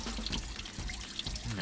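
Water gushes steadily out of a car heater matrix being flushed during a coolant leak repair, a faint continuous splashing flow with no voices.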